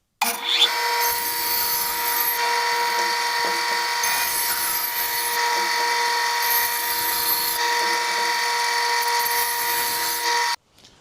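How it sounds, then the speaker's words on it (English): A bandsaw cuts steadily through an oak bowl blank, its loud continuous whine and rasp holding without a break for about ten seconds before stopping abruptly. "let's get straight to the bandsaw and let's get this piece cut up"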